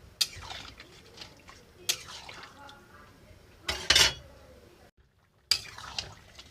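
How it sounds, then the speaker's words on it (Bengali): Water poured and eggs dropped into a pot of soybean and potato curry, giving a few loud splashy bursts and clinks separated by quiet stretches, close by. "এবার দিয়ে দেবো জল। এবার দিয়ে দেবো ডিম।"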